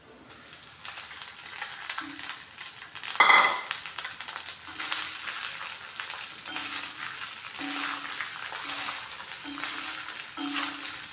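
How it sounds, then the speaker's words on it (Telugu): Rice for coconut rice is stirred in a pan off the heat, soft scraping and light sizzle close by, with a brief louder clatter near the start and faint tonal squeaks through the rest. "ఒకసారి రైస్ కలుపుతున్నాను."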